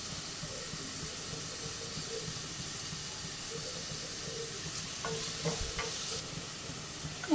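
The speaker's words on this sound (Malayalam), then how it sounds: "അതും കൂടെ ചേർത്ത് ഒന്ന് വഴറ്റിയെടുക്കാം" Sliced onions sautéed with salt in a cooker for biryani, giving a soft continuous sizzle with light stirring scrapes and a few louder clinks toward the end.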